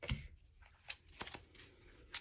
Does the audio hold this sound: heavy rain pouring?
no